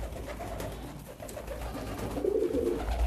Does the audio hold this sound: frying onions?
no